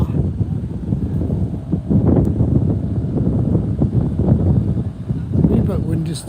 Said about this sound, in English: A wee bit windy still